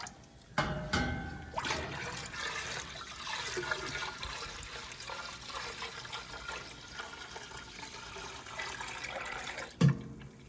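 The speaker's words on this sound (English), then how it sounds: "So we're pouring in what we've strained into the pot" Strained maple sap is poured into a big pot on a stove, making a continuous trickling, splashing flow that runs throughout, opens with a bump and ends with a clunk.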